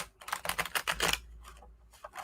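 A deck of playing cards being shuffled, a quick run of soft crisp riffling snaps followed by a couple of quieter taps, close and faint.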